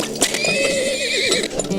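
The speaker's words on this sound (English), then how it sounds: "And one more horse." A horse neighs in the oil-drilling video game Turmoil, a loud wavering whinny with clip-clop hoof taps, short and close with no talk.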